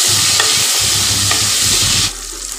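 Local chicken fries in oil with salt and turmeric, a loud, bright continuous sizzle with low stirring scrapes and thumps that cuts off abruptly near the end, leaving a softer hiss; no talking.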